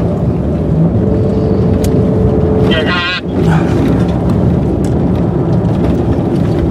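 A truck drives fast over rough ground during an elk hunt in the USA, with a loud steady engine and road rumble throughout and a brief burst of higher mechanical whine midway.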